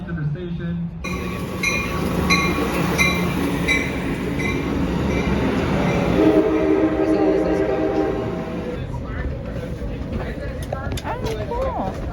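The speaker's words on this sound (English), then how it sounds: "The next train arriving into the station." An Amtrak passenger train rumbles into a Southern California station, close and loud, its wheels clattering and squealing on the rails. Voices and chatter carry on over it throughout.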